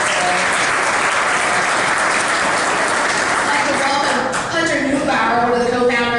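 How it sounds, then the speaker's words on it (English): Audience at a 2018 cannabis industry event breaks into sustained loud applause, dense clapping filling the whole stretch, with a voice speaking over it toward the end. "Give him a huge round of applause."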